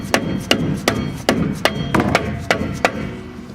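A rubber mallet strikes a rear axle part on a 2000 Dodge Ram 1500 4x4 during rear bearing and seal work. Nine or so close, sharp whacks land at a steady, slightly uneven rhythm, each followed by a short ring, with no talking.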